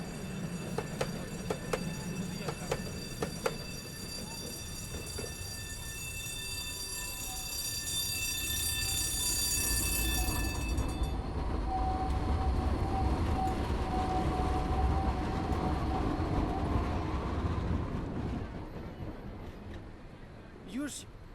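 A tram in Poznań, Poland, rolls past during a tram parade with a long, bright, ringing horn tone over a rumbling rail noise that swells and then fades.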